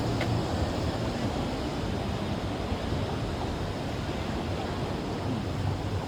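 Steady broadband rush of a river flowing in China, constant and fairly loud, with no breaks or voices.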